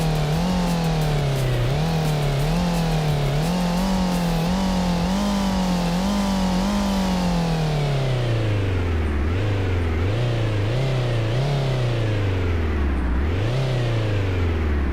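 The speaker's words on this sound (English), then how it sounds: "This thing with RPMs gets stuck sometimes." A car engine in a Godot-made video game, loud and synthetic, revving high and hanging near the top of its range, with rising and falling sweeps and repeated surges, alone without talk.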